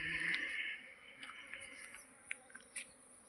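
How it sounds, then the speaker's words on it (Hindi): A swarm of honeybees buzzes near beehive boxes, a dense loud hum at first that thins out into scattered, fainter buzzing as individual bees fly past. "इसमें से जो मधुमक्खी बंटवारा करके गई थी वो चले गई"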